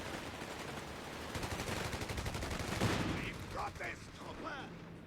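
Stuart light tank fire in the Company of Heroes 3 strategy game: rapid rattling bursts of shots build to a louder crack, then fade into scattered battlefield noise.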